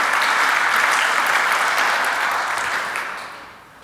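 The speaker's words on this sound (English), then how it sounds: "I love the applause for the calendar." Audience applause at a business software roadmap presentation, a steady dense clapping crowd that holds strongly for a few seconds, then tapers off toward the end.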